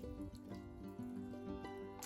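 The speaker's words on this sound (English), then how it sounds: "I'm pouring it into the jar," Liquid is poured steadily into a glass jar while bottling during camping, giving a continuous filling and trickling sound with small drips, close and moderately loud throughout.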